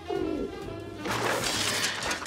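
A pigeon coos in a low, throaty warble, close and steady, with a brief burst of noise near the end.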